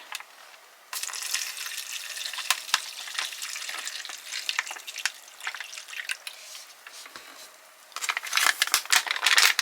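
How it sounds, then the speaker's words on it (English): Water pours into an MRE drink pouch, a splashy irregular gurgling and crackling that swells louder toward the end. "you fill it up to the line with water"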